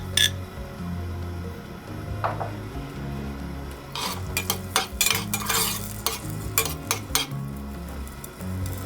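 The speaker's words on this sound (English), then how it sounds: "we're just gonna cook the scallions and the radish together for a little bit in some chili oil" Scallions cook in chili oil in a pan with a steady low sizzle, broken in the second half by repeated scraping and clattering of a utensil stirring against the pan, with no voices.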